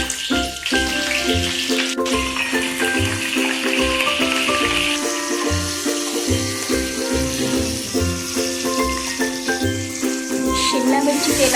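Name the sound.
capsicum added to hot oil with cumin-mustard tempering, sizzling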